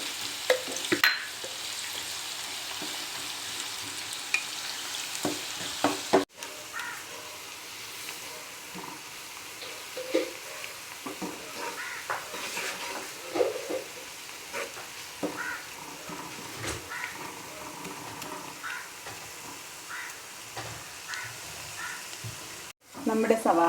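Sliced onions frying crisp in oil with salt and a pinch of sugar for mutton biryani, a constant bright sizzle with scattered stirring scrapes and clatter, a brief voice murmuring faintly in the background.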